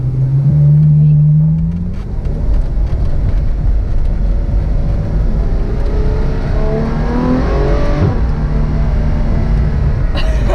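Ferrari F12 Berlinetta GT accelerating through dual-clutch gear changes, a loud continuous engine note climbing in pitch, dropping at each quick shift and rising again, heard from inside the car with people talking.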